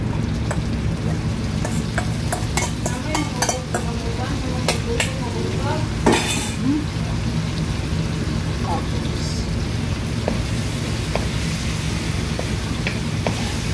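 Marinated pork sizzling steadily in a hot pan for stir-fried pork and leeks, with a constant frying hiss and scattered clicks of stirring utensils while a person talks over it.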